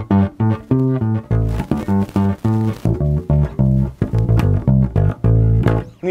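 A Cort Rithimic Jeff Berlin bass guitar on its front pickup plays a punchy run of plucked notes, deep and round with a rhythmic, slightly percussive attack, loud and close with no speech.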